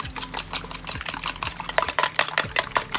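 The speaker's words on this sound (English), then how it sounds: "Continue whisking it until it is completely yellow." Eggs whisked briskly in a bowl while making Latin pork fried rice, a steady rhythmic scraping and clinking of the whisk, close and alone.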